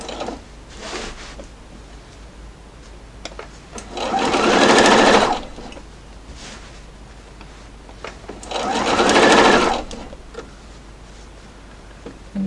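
An industrial Juki sewing machine stitches a scrap quilt in two loud, steady bursts of rapid needle chatter a few seconds apart, separated by quieter handling sounds and faint fabric rustling.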